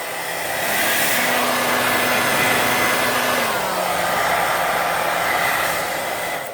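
A hair dryer blows steadily and loudly up close, drying a glass block craft, its hum holding one pitch and then dropping slightly partway through, with no talking.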